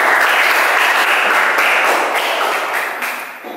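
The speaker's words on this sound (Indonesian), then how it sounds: "Berikan tepuk." Students clapping in a school classroom, a dense, steady burst of applause close by that fades toward the end.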